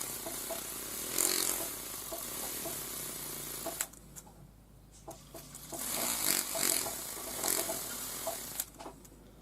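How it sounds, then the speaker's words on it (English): A jewelry handpiece fitted with a split mandrel sands a hammered oval wire bangle, giving a close, moderately loud whirring grind that rises and falls in uneven passes, with a brief dip near the middle. "I use the split mandrel on my handpiece."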